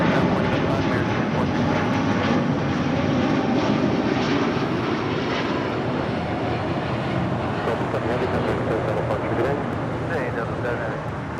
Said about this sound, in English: That is Delta Airlines Flight 7 Heavy departing to Tokyo Haneda on the Airbus A330 Neo.